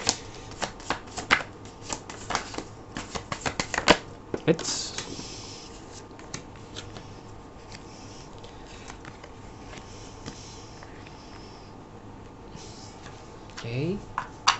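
A deck of tarot cards is shuffled in quick crisp bursts of riffling, then cards are slid out and laid down one by one up close. Someone talks quietly in between.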